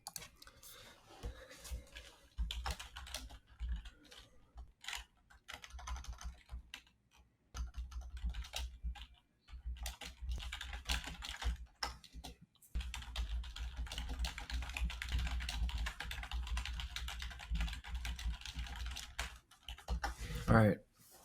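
Typing on a computer keyboard, close and steady, with rapid key clicks coming in bursts separated by short pauses and a low background hum throughout.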